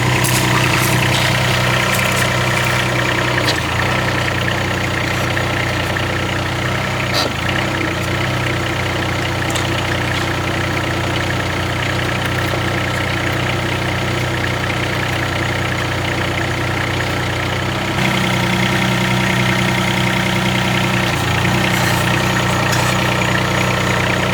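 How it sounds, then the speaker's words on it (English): A HD 17 mini excavator's engine idles steadily and loudly throughout, with a deep continuous rumble and slight shifts in load as the tracks are rotated back and forth. "I'm just going to rotate the tracks back and forth so I can make sure everything's fitted properly"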